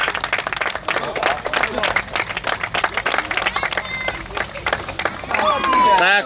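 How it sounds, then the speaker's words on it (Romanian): A crowd at a national supermoto podium ceremony in Arad, Romania, claps and cheers in a loud, dense burst, with a voice speaking over the applause and a rising whoop near the end. "Vă rog frumos să-l întâmpinăm cu aplauze pe Alessio Marco Lemi"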